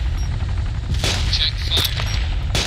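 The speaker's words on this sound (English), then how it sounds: "Artillery's hitting right here." Gunfire and artillery crack out in a military combat simulator game, several sharp broadband bursts spaced irregularly over a constant low rumble, loud and close.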